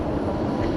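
UPS Boeing 747 cargo jet taxiing at night at DFW Airport, a steady broadband engine rumble and roar heard at a distance, continuous and fairly even throughout.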